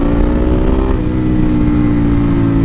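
A Ducati 1098 motorcycle with a new flash tune revs at just under half throttle, a loud, close, continuous engine note that dips briefly before holding steady.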